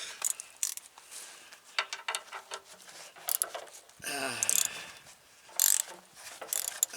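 A hand ratchet tightens a bolt on an International Paylogger skidder, quick bursts of sharp clicking pawl ticks coming in short runs with pauses, close by and fairly quiet.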